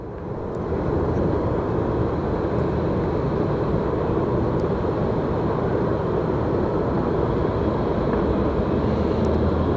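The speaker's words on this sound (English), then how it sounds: "one of our Southwest planes coming in." A Southwest Airlines jet arriving at Phoenix Sky Harbor airport, its engines a steady loud roar that swells in over the first moment and then holds as a broad continuous rumble.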